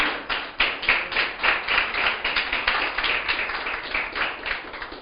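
A church congregation applauding, many hands clapping together in a fairly steady rhythmic pulse that continues for several seconds at moderate loudness, with no voices on top.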